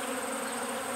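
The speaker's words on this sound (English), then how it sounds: "But I never imagined that bees could consume that much sugar syrup" Honeybees swarming an open sugar syrup feeding station during a nectar dearth, a dense steady buzzing hum of many wings close by, continuous for one second.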